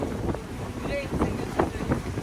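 Steady wind rush and low rumble of moving water on a sailing boat near Kadirga Bay, Marmaris, with faint voices underneath.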